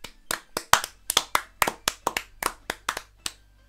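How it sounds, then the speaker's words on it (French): Sharp, separate handclaps, about a dozen, sound close by in an uneven, slightly quickening rhythm, like a few people clapping for the loser of a casual indoor 'who is the dumbest' challenge. "On peut l'applaudir."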